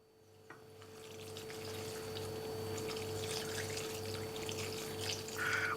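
Water is poured into a pan of soya chunk (meal maker) pepper gravy, making a steady, moderately loud rushing pour that builds over several seconds and continues without talk.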